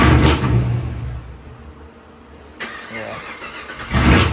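Untuned LT1 V8 in a 2023 Chevrolet Camaro after an engine and cam swap, cranking and catching in repeated rough bursts, stumbling between attempts before firing again.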